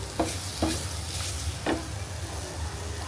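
Mashed radish paste sizzles in a hot pan while a utensil stirs it, giving a few brief scraping strokes over a steady low frying hiss, close and fairly quiet.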